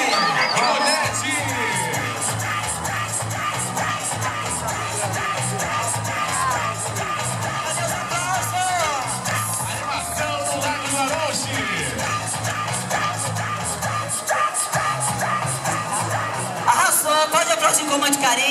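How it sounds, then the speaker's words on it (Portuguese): A crowd at the Bate Cabelo 2019 contest, a drag hair-whipping competition, roars with cheers, yells and clapping for the winner, a dense, continuous wall of noise throughout with music underneath. "Vamos aplaudir a vencedora do concurso Bate Cabelo 2019"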